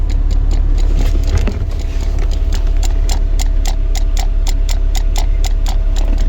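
A small water pump feeding two nozzles for car AC condenser cooling runs in rapid, even ticking pulses close up, over a steady low engine hum.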